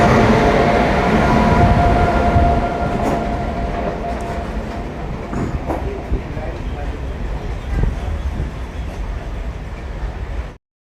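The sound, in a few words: Itarsi diesel locomotive train running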